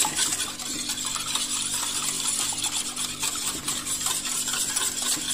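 Vanilla crêpe batter being mixed in a bowl for sweet Comorian crêpes: a steady, close, continuous wet swishing and stirring that runs without pause, with no talking.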